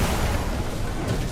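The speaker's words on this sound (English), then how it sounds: "Okay, 3 explosions." Loud, continuous rumble of overlapping explosions in Lies of P, a heavy booming wash with no gaps.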